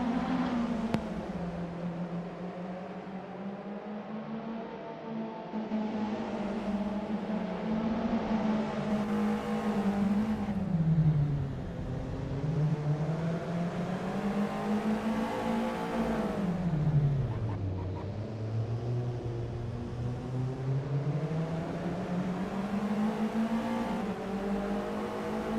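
TCR touring cars racing at Croft in a sim racing league game: a steady, loud engine drone that rises and dips through gear changes and corners, continuous for the whole stretch with no talk.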